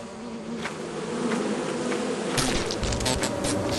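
A beehive buzzing in the video game Lethal Company, a dense insect drone that swells louder midway and holds steady, close and without speech.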